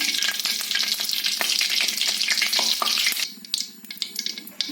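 Oil heating in a kadai sizzles loudly and close for about three seconds, then drops to a quieter, sputtering crackle with scattered pops.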